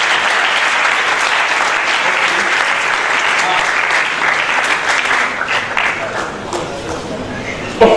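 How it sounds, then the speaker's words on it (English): Sustained applause from an audience at a geography alumni lecture and award ceremony, dense and steady throughout, thinning slightly toward the end. "Let's give him a round of applause."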